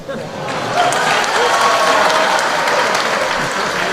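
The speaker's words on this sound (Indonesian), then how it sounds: "Ojo tepuk tangan tok blek." A large audience at a humorous Islamic religious talk at a university in Malang breaks into loud, dense applause that swells quickly and stays strong, with a few voices faintly mixed in among the clapping.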